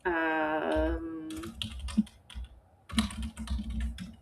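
Keys clacking on a computer keyboard as entries go into a budget spreadsheet, a burst of close, rapid typing with short pauses, following a brief tonal sound at the start.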